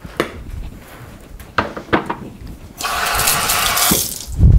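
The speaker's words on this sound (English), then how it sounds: "Quick little rinse off there." Kitchen tap water running into a sink while a mixing bowl is rinsed during cooking prep. After a few light clinks, a steady gush of water lasts about two seconds and then cuts off.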